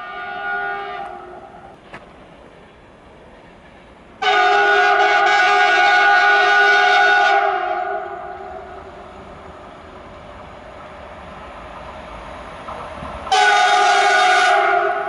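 At Bełchów station in Poland, a train sounds its horn in long, loud blasts, then falls quiet before another horn blast, with the low rumble of rail cars rolling through.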